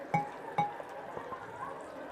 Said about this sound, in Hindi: और तकरीबन 4 गिलास पानी है, ये मैं इसमें डाल रही हूँ।